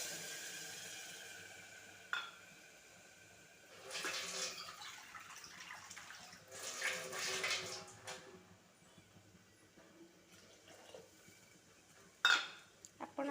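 Water is poured into a pot of rice and lentils for masala khichdi, coming in two soft, close splashing bursts with a few clinks of the pot around them.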